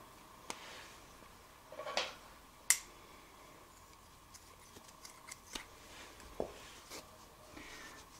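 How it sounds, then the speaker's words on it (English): Scissors make a few quiet, sharp snips as they cut crochet yarn, with small handling clicks scattered through an otherwise hushed room. "then I'll cut this yarn"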